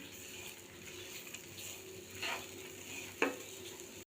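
Gram flour and moong dal fry gently over low gas in a pan, a soft steady sizzle with occasional scraping stirs and one sharper clink near the end.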